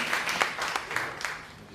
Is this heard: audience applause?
yes